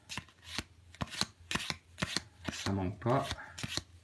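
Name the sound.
handling Zombicide Green Horde game cards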